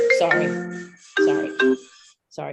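A mobile phone ringtone plays during a conservation commission meeting: a melodic electronic jingle in several bursts with brief gaps, loud and close, with no speech over it.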